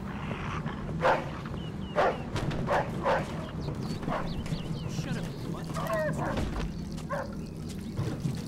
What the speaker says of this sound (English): that dog could be a problem